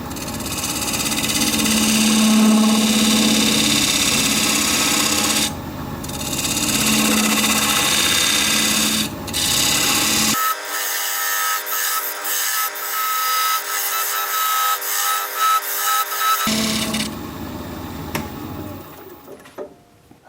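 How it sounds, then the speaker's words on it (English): A thin bladed parting tool cuts a wooden tenon on a spinning wood lathe, with a loud steady motor drone and rough scraping. The low hum drops out partway through while the thin cutting noise continues. "I'm going to use this thin bladed parting tool. Cut this down a little bit."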